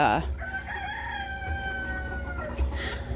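A rooster crows once, loud and close, its call drawn out over a couple of seconds against low background noise.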